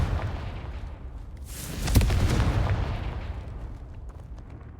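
A Confringo spell blast in Hogwarts Legacy: a single booming burst swells up and rolls out over a couple of seconds above a steady rumbling background, without speech.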